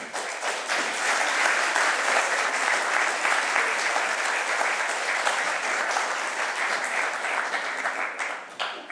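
An audience at a French conference on artificial intelligence applauds a guest in a sustained, even round of clapping that fills the room, loud and continuous before tapering slightly at the end.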